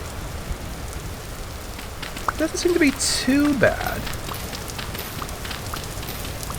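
Steady rain patters across the landscape in the video game Vintage Story, a soft continuous hiss running throughout while someone speaks briefly midway.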